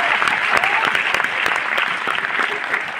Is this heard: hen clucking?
no